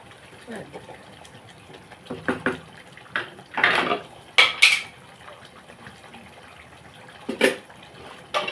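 Fish pieces are stirred in a cooking pan, giving scattered scraping and clinking knocks of a utensil against the metal, with a few louder bursts spread across the clip.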